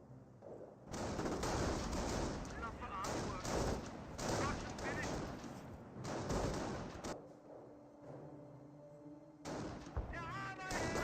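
Gunfire in the Company of Heroes strategy game: dense bursts of machine-gun and rifle fire rattle in sustained volleys with short gaps, fairly loud, with a voice talking briefly near the end.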